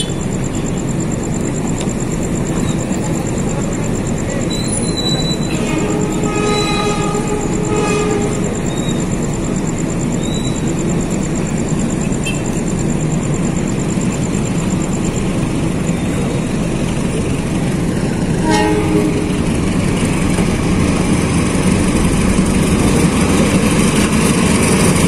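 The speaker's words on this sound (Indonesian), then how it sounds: "Ini dia nih keretanya nih, kereta api Sindang Marga 2 S4 KS4 dari Lubuk Linggau tujuan Kertapati." The Sindang Marga 2 passenger train runs between Lubuk Linggau and Kertapati in Indonesia with a loud, continuous rumble and clatter of wheels and carriages, broken by brief tonal horn-like calls partway through.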